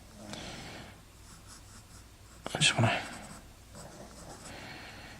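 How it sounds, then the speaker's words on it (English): Pencil drawing on paper in a Quentin Blake-style illustration of a Muggle Wump monkey: a soft scratch with a burst of quick, brisk strokes in the middle, close and quiet under a man's speech. "get some pencil lines down first, which I'll go over."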